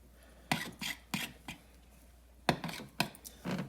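A spoon stirs oatmeal in a big bowl, giving a handful of scraping, clinking strokes in uneven bursts against the bowl, close by with no talk.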